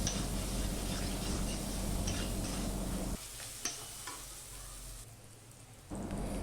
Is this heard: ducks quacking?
no